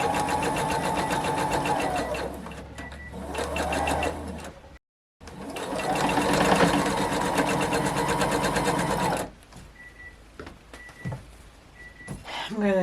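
Sewing machine stitching a scrap quilt, humming steadily in a long run, stopping briefly, then stitching again for several seconds before settling into quieter clicks and handling sounds.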